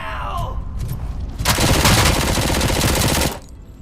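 Gunfire in the RoboCop video game on PS5: a loud, sustained burst of rapid automatic shots dominates for about two seconds after a short lead-in, then cuts off sharply.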